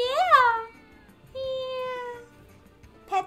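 Cats in the video game Final Fantasy VII Rebirth meow three times, a rising wavering call, a long drawn-out mew, then a short chirp, each clear and close against a quiet background.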